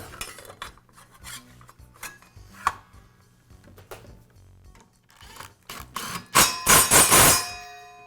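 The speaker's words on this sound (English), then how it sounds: "And I'll finish up by reinstalling the blade." Metal clinks and scrapes from a Makita circular saw blade being refitted over the inner flange and hub, a string of light taps and rattles ending in a louder, sustained metallic scraping burst.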